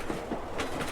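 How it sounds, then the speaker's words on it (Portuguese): A train rolls along a railway line, its wheels giving a soft rhythmic clickety-clack over a low rumbling hum, fairly faint and steady with no voices. "Imagine-se dentro de um trem que está sobre essa linha férrea."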